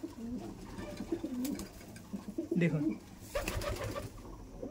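Male pigeons coo repeatedly at close range in a low, throaty rhythm inside a loft, with a man's brief speech and some rustling.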